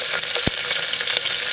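Onion added to hot oil with whole garam masala and bay leaves gives a continuous, loud frying sizzle with a brief low thump near the start, up close and without speech.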